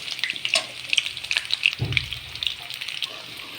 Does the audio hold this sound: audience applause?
no